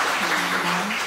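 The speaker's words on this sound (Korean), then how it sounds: "박수 한번 부탁드리겠습니다." Audience applause at a live talk concert on stage, a steady, dense wash of clapping filling the whole moment at moderate loudness with no pauses.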